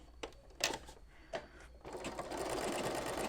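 An embroidery machine stitching a test design starts with a few separate clicks and thumps, then settles into a fast, steady mechanical whir of needle strokes, close and clear.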